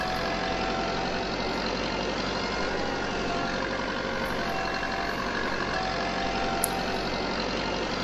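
A tractor engine drones steadily while harvesting potatoes in Farming Simulator 22, a dense, constant rumble with no breaks or talk.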